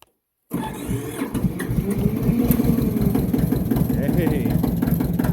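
A cold Massey Ferguson 205-4 diesel tractor engine cranks and catches after a brief silence, then settles into a loud, rough, rhythmic chugging idle close by.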